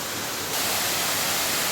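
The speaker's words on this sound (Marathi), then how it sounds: "फायनली आपण धबधब्यावर पोचलो आहोत" A tall waterfall on a stream at Ghonsari Sapatwadi gives off a dense, continuous rushing roar that swells slightly louder after the first half-second and stays steady, close and unbroken.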